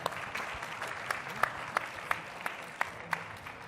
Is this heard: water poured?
no